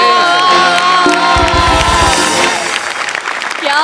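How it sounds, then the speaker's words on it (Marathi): Studio audience giving a standing ovation at a comedy sketch show, loud sustained applause and cheering with a burst of horn-like toots in the middle, continuous crowd noise throughout. "उभा राहून टाळ्या वाजवतो."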